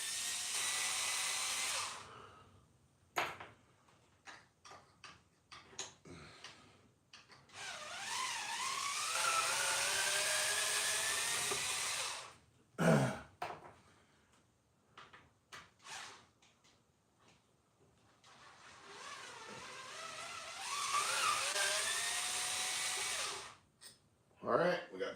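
A cordless Kraken Vesla wrench with a worn battery that barely holds a charge whines loudly as it removes bolts, running in a few long bursts with clanks and handling noise between them.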